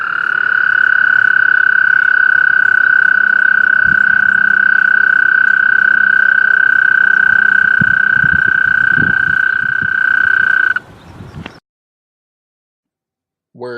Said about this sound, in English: American toads were making a ruckus early in the week.